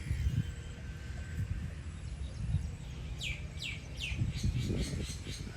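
Sparrows chirp in quick, bright bursts under dark gathering rain clouds, growing busier toward the end, over a low outdoor rumble with no talking.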